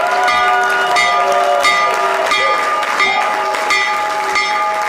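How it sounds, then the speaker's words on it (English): A stock market opening bell rings loud and continuous, with sustained metallic clanging tones repeating over a busy crowd and applause-like noise. "Okay, so opening bell."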